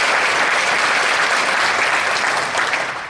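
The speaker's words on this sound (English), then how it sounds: "Let's give a round of applause for the athletes, and the athletes." Steady, dense applause from an audience honoring athletes at a school district address, a continuous wash of clapping that holds level and tapers slightly at the end.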